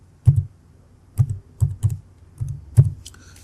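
Keystrokes on a computer keyboard while entering text into an Excel spreadsheet, six separate close, crisp taps in an uneven rhythm with quiet pauses between them.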